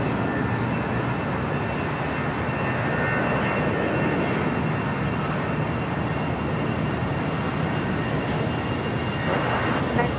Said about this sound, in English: Got that Legion A320 heading to Des Moines, Iowa. Now rolling down 25 right.